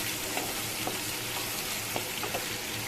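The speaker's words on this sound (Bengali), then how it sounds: "এই দেখো পেঁয়াজটা কিন্তু ভাজা ভাজা হয়ে গেছে" Chopped onions fry in a pan with oil, giving a steady, close hiss of sizzling with a few soft clicks from stirring throughout.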